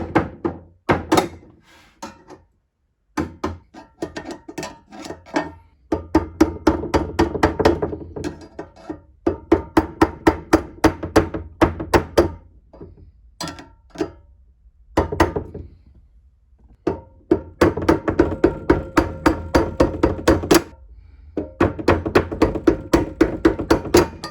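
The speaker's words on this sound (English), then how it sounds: "You can even tap it with a hammer" Repeated sharp taps of a hammer on metal and wood come in quick bursts with brief pauses, loud and close.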